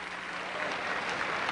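Subdued crowd applause in an arena at a 1998 World Championships ice dance free dance, a faint, brief patter of clapping held at a distance without any rise.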